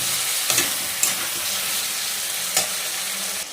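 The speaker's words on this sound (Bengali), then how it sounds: "একটু মিষ্টি দেবো এবার এটাকে ভালো করে কষাবো" Cauliflower and banana flower fritter curry sautéing in a pan, a loud continuous sizzle broken by a few spatula scrapes and knocks.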